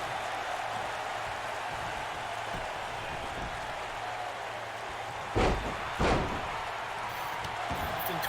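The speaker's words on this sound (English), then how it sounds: "Lifting Toyotathon's leg and slamming his knee to the mat." In the WWE 2K19 wrestling video game, two sharp slams onto the mat land about half a second apart over a constant crowd-like background hum.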